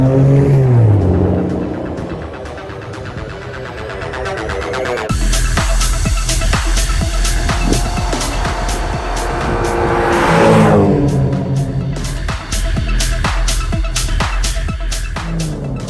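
An Aston Martin DBS with a naturally aspirated V12 and no turbos runs loud and close, its engine note rising and falling through revs with sharp harmonic sweeps and one strong surge, alone with no speech.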